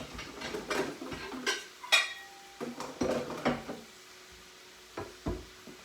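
Knife slicing salad ingredients on a board in a home kitchen while pork sears and rice and beans cook: a series of quiet, uneven chopping taps and clinks, close and fairly soft.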